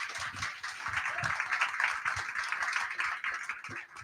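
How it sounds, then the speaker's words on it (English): An audience applauds a climate campaigner from Tuvalu at a politics-in-the-pub event, a sustained patter of clapping from a crowd that holds steady for several seconds without speech. "Please give a warm round of applause to Gitty."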